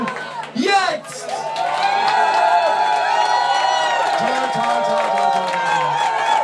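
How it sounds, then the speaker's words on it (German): An audience erupts in loud cheering, whoops and shouts mixed with clapping, a dense crowd roar that swells after a brief opening and holds strong to the end. "Euch gebührt ein mega Applaus und der kommt jetzt!"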